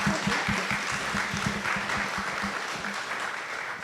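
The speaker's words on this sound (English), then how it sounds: "So a round of applause for our panelists, please." An audience at a civics education fireside chat applauds the panelists with moderate, steady clapping that gradually thins out over a few seconds.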